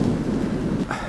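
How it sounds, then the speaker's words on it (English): Continuous rushing noise of rain and wind in the Scottish Highlands, a steady broadband wash that swells slightly near the end. "It became windy and rainy."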